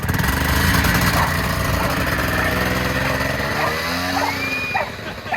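A buggy's engine runs steadily and loudly throughout, its droning motor sound varying slightly in pitch as the vehicle moves, with faint voices and shouts mixed in beneath.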